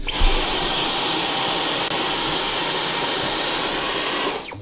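A Dyson V11 cordless vacuum cleaner runs continuously on a parquet floor, a loud, steady close-up whine with a broad airy roar and no talking, cutting off at the end.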